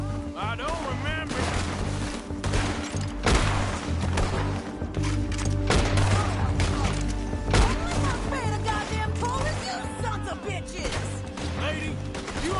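Rapid gunfire crackles through a chaotic video game firefight, with dense bursts of shots and impacts over a steady rumble of battle and music, loud and continuous throughout.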